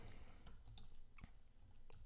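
Quiet, irregular keystrokes on a computer keyboard as a banner sale message is entered, a handful of soft clicks spaced unevenly over a couple of seconds.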